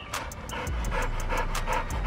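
Dogs pant rapidly in a backyard, an even, close rhythm of quick breathy puffs at about eight per second, steady throughout with no voices.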